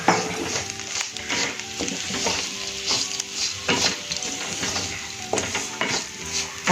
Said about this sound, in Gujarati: આપણા મસાલા અને દાળ સારી રીતે તેલમાં એકદમ સરસ ફ્રાય થઈ ગયા છે.